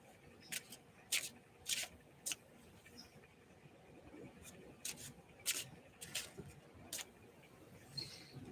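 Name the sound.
shuffling tarot cards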